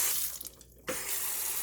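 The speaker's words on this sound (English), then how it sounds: "And then I usually turn hot water on" Hot water runs from a kitchen tap onto cooked noodles in a sink, a steady splashing rush that briefly drops out and then resumes strongly.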